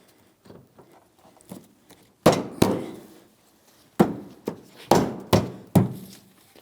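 Plastic bumper cover on a GMC Sierra 2500 HD being tapped into place, with a few faint light knocks followed by about six sharp, close thuds spaced irregularly.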